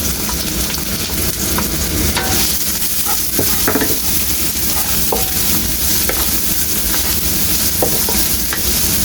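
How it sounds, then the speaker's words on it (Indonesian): Finely chopped onion sautéing in hot oil, a loud, steady close sizzle with occasional spatula scrapes and taps against the pan, no voices. "saya akan tumis dulu ini bawang bombay ya"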